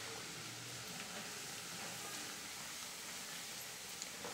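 Steady, faint sizzle of garlic and masala tempering in hot oil for a spiced moth bean curry, a continuous broadband hiss with no voices.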